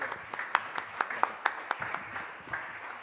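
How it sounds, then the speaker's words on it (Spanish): Sparse, distinct hand claps from a small audience at a book presentation during a university book fair, about a dozen sharp claps spread unevenly over a few seconds with quiet room noise between them. "Un aplauso, por favor."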